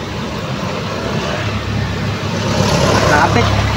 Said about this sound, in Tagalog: Sobrang heavy ang traffic.